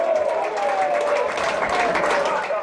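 Football fans applaud at the end of a Promozione Veneto play-off final between S. Lucia and Lendinara, a dense, steady wash of clapping from a crowd with a few whistles riding over it.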